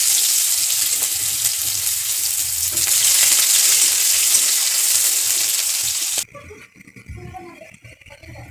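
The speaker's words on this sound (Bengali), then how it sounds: "এবারে পেঁয়াজ কুচিগুলো দিয়ে দেবো।" Chopped onions fry in hot oil tempered with cumin, a loud, dense sizzle that holds steady for about six seconds and then drops away abruptly to quieter stirring.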